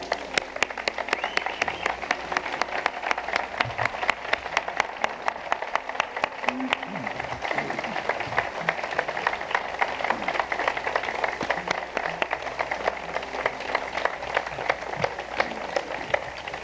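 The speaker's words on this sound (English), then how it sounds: "give him again today a nice warm applause" Continuous audience applause at an outdoor bluegrass festival, a dense, even patter of many hands that is moderately distant and holds steady throughout with no speech over it.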